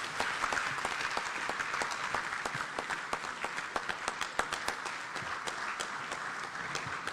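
Applause at an African inter-parliamentary conference in Ghana, a sustained round of clapping from a sizable audience with distinct sharp claps punctuating a steady wash.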